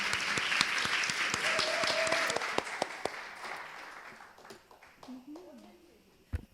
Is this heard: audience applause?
yes